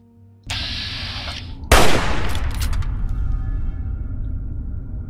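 A hunting rifle fires in Fallout 3: a sudden loud, close shot cracks out after a rising mechanical whir, then the blast rings and rumbles away into a dense, noisy tail.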